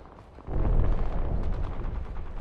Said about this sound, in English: Launching missiles.